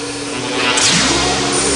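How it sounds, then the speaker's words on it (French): Cartoon hedgehog-catching ray vacuum machine starting up, a loud steady roar with a swooping whoosh rising through it midway. "Mets en route l'aspirateur à rayon attrape hérisson."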